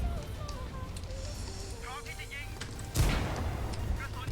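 A tank cannon fires in World of Tanks during a T-22 medium tank match, one sharp loud blast near the end, with game noise and scattered voices running underneath before it.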